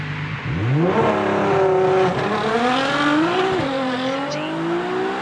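A Nissan R35 GT-R launches hard from a standstill, its engine roaring loud and close as the revs climb steeply through a gear, briefly dip at a shift and climb again.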